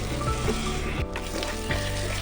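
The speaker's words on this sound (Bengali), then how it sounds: "পেঁয়াজটা কিন্তু বেরেস্তার আকারে প্রায় কিন্তু ভাজা হয়ে গেছে" Sliced onions fry in a little oil until nearly crisp and browned, giving a close, loud, continuous sizzle with a few brief stirring scrapes and no talking.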